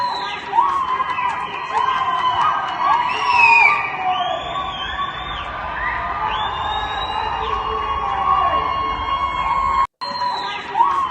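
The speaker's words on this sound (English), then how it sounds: "So they're cheering right there in the streets." A crowd in the streets of Tehran cheers and celebrates, with high whoops, shouts and screams rising over a dense, continuous roar of voices that stays loud throughout.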